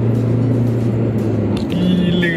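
A Toyota Hilux 2.8 Rogue pickup heard from inside the cabin as it speeds up, a loud steady engine drone and road rumble that shifts pitch partway through, with brief higher whine near the end.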